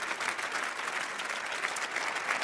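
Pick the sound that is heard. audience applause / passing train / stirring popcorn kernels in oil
audience applause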